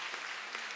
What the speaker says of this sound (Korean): 다시 한번 격려의 박수 부탁합니다